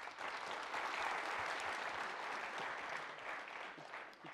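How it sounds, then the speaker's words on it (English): A conference audience at a Swift developer talk applauds for a volunteer, giving a soft, even round of clapping that holds steady throughout and sounds somewhat distant. "Round of applause for Sylvain."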